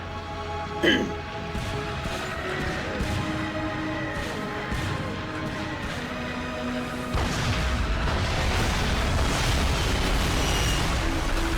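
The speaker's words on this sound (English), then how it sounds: "Range 100 meters. Fire incoming, over." Artillery shells explode in the Call of Duty: Finest Hour video game: a heavy boom lands early, then dense rumbling blasts build and continue, with voices speaking over the battle.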